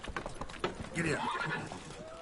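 A horse in The Witcher 3 game, clip-clopping hooves followed by a loud neigh and whinny, all close up and layered under a voice.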